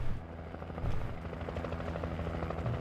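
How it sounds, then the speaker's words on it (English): Coast Guard rescue helicopter in the video game Alan Wake, a steady low rotor drone with rhythmic chopping running throughout at moderate level, no voices. "Since you are in a rescue helicopter, I assume it has rope."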